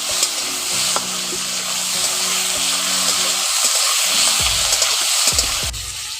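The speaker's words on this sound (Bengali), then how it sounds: "এখন টমেটোগুলো দিয়ে ফোড়নের সঙ্গে একটু ভালো করে ভেজে নিচ্ছি।" Tomatoes fry with tempering spices in a pan for a tangy, spicy small-fish curry, a loud steady sizzle with scraping stir strokes that grow more frequent toward the end.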